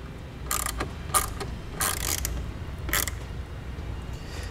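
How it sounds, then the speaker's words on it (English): Ratchet with a 10 mm socket snugging up nuts on circuit breakers while installing a trailer brake controller in a 2017 Ford Escape; several short bursts of ratcheting clicks, close and moderately loud, with pauses between, no talk. "Then with a 10 millimeter socket, we're gonna come back, make sure we snug up"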